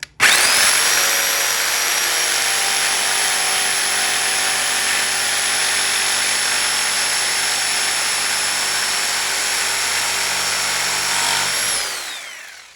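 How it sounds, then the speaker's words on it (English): A jigsaw fitted with the right blade cuts through poplar hardwood in one loud, steady, unbroken high-pitched whine lasting about twelve seconds, then winds down as the cut finishes. "a jigsaw will cut these well and do a nice clean job on it"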